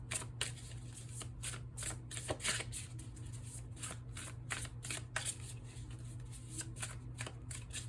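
Tarot cards being shuffled by hand, a run of quick riffling bursts repeating in an irregular rhythm, close and fairly quiet with no talking.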